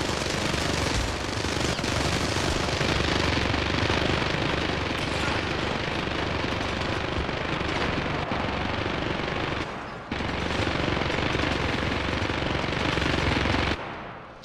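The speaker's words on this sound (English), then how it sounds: "This guy does not stop shooting." Relentless enemy automatic gunfire in the video game Syndicate, a loud unbroken machine-gun stream lasting many seconds with only a brief dip near the end.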